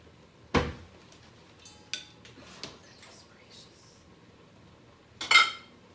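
A bowl being taken from a kitchen cupboard while preparing a rotisserie chicken and mushroom sauce meal: a sharp knock, a few light clinks of crockery, then a louder clattering set-down near the end, with a voice speaking softly between.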